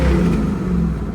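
A Ford 5.0L V8 with a Quadrajet carburetor revs steadily and loudly with a low, continuous engine drone, close and alone, holding a fairly even pitch through a brief stretch.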